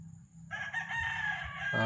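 A rooster crows close by, a rising and sustained call that swells louder toward the end, over a low background of farmyard noise.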